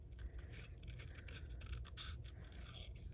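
Scissors fussy-cut around a stamped Christmas card image: quiet, close snips and scraping paper strokes repeat in a loose rhythm over a low room hum.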